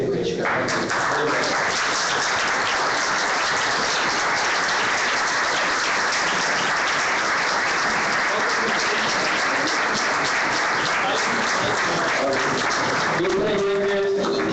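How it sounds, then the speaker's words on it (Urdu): A standing ovation at a Pakistan Embassy event in Tokyo, dense and loud clapping sustained almost throughout, with a voice coming in near the end as it fades. "کھڑے ہو کے زوردار تالیوں میں ان کو خراج تحسین پیش کرتا ہوں"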